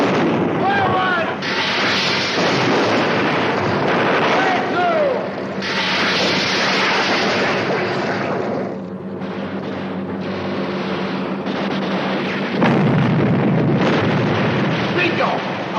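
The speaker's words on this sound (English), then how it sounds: "Stand by the fire torpedoes!" Torpedoes launched from a PT boat and exploding in a 1960s naval comedy TV series, a dense roaring rumble of blasts and rushing water noise with a renewed heavy boom near the end, while voices talk over it.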